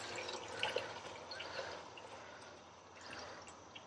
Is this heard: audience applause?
no